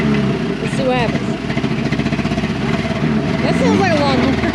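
Small four-cylinder off-road vehicle on a forest trail in Talladega National Forest, Alabama, its engine running rough with a buzzy, uneven idle beneath people talking.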